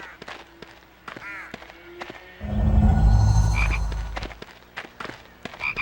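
A frog in the Harry Potter and the Chamber of Secrets PS2 video game lets out a loud, close croak in the middle. Light game footsteps and small effects come before and after it.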